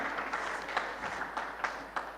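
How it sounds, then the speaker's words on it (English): An audience at a stakeholders' summit applauds as a speaker approaches the podium, a steady, fairly faint wash of clapping with a few sharper claps standing out. "Keep clapping until he gets to the podium."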